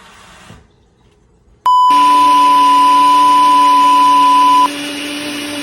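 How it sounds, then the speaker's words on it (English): A loud, steady mechanical whine kicks in abruptly after a quiet moment, holding a constant pitch with no voices present. "I was unaware of how loud this actual blender was going to be"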